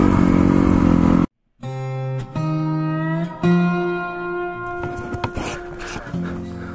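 Dirt bike ridden on a desert mountain trail near Crown King, Arizona, its engine buzzing loud and close with rising revs and gear shifts after a brief cutout, plus clatter from the rough ground.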